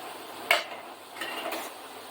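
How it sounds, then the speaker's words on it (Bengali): Spice paste for chicken curry fries in a pot with a soft sizzle, broken by a sharp clink of a metal spoon against the pan and a couple of quieter scraping stirs. "দেখো মশলাটা কষা হচ্ছে"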